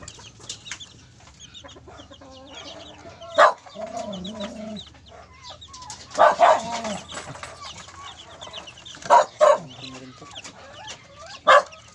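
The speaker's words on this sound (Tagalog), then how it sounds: "ating munting manukan" Chickens cluck and call in a small backyard coop, with several sharp, louder squawks standing out over steady, closer clucking and a low background hum.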